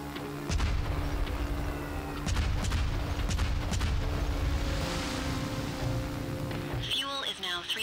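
Bombing run explosions in The Brew Barons game: a run of deep, rumbling blasts and scattered cracks rolls through a steady noisy bed, loud and near, ending in a brighter clattering burst.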